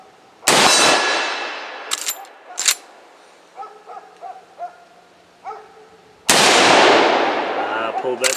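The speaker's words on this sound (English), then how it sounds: "I pulled that shot on the little swinger." A gunshot rings out on a small steel swinger target at a shooting range: a sharp, loud crack with a ringing clang at the start, more distant clanks in between, and another loud shot near the end.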